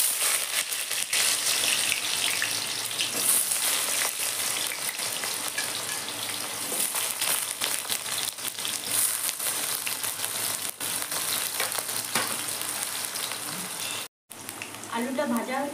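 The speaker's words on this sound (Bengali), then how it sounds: "তেল গরম হয়ে গেছে, আমি আলুটা ভাজি নেব।" Potatoes fry in hot mustard oil in a pan for a homemade mushroom curry, giving a dense, steady sizzle and crackle close up that fills the whole stretch, with brief stirring noises and a short pause near the end.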